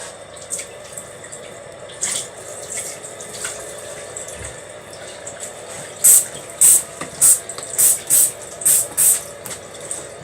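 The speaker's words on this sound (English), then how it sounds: "Run some hot water." Hot water runs steadily from a tap into a sink, a continuous close hiss and splash with a few sharper bursts of flow near the end.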